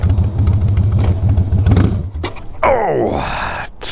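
A motorcycle engine on a cold-weather ride chugs at a low, uneven idle, then stalls and dies abruptly, leaving scattered clatter and other noises.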